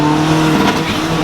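A turbocharged Honda Civic 2.0 engine revs hard and sheds boost through its blow-off valve in a brief, loud, close burst with a hissing release.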